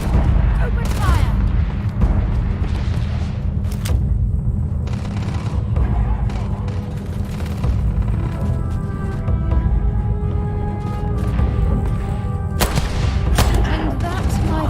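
Gunfire in the Starfield video game: repeated shots and sharp bangs during a firefight over a constant low rumble, with scattered loud cracks throughout.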